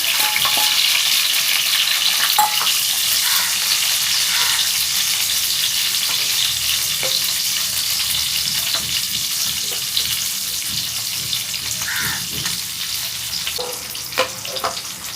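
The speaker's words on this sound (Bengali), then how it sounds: "এবার আমি এই তেলেই দিয়ে দেবো পেঁয়াজগুলোকেও ভাজার জন্য" Sliced onions frying in a pan of hot oil for home-style chilli chicken, a loud, continuous hiss that fades slightly over time, with occasional light clinks of stirring and no voices.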